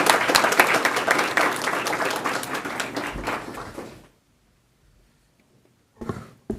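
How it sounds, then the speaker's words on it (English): Sustained audience applause for students at a Central Unified board of trustees meeting, many hands clapping steadily for about four seconds and then trailing off into silence, with a short scattered flurry of claps near the end. "Can we get a round of applause for all of our amazing students?"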